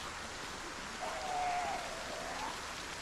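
Steady heavy rain in Project Zomboid, a constant dense hiss of falling water at moderate volume with no breaks and no talking.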